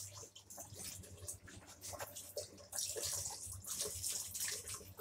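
A knife is washed under a running tap, with water splashing and gurgling unevenly, then growing louder and brighter as the stream strikes the blade and sink, close up with no talk.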